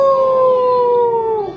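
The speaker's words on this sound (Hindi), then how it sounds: "फिर कुत्ते भौंके" A single dog howls loud and close in one long, sustained wavering tone that slides downward and breaks off at the end, with nothing else behind it.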